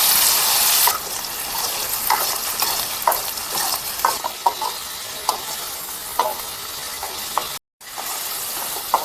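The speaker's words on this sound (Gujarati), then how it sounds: "આપણે આ ડુંગળીની ગ્રેવી છે ને એને એકદમ ગોલ્ડન બ્રાઉન થઈ જાય ને ત્યાં સુધી તેલમાં પકાવવા દઈશું" Onion gravy frying in oil for rajma masala, a constant close sizzle broken by repeated scrapes and taps of a spoon stirring the pan, with a brief dropout near the end.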